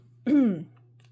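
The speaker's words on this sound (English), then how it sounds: "I had to cough there real quick." A single short cough, close and fairly loud, rising out of a quiet room with a steady low hum beneath it.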